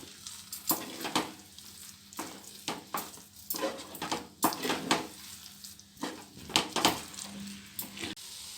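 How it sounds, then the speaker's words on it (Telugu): A thick Moticur laddu mixture being stirred and mixed by hand in a pan, with repeated scraping and stirring strokes at an uneven rhythm, close and moderately loud, with no talking. "ఇగో కలుపుకోవాలి మంచిగా, పూర్తిగా అంతా కలిసేటట్టు కలుపుకోవాలి"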